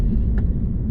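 Steady low road rumble inside a moving car on a commute route, with an even, droning cabin noise and one faint brief higher tick partway through.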